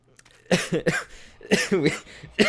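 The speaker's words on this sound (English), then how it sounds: "I would cut the coughs out" Several harsh coughs in quick bursts, close and loud, with short pauses between fits and no talking.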